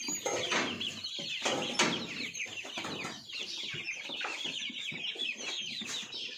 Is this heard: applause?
no